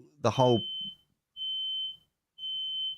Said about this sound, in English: My smoke alarm going off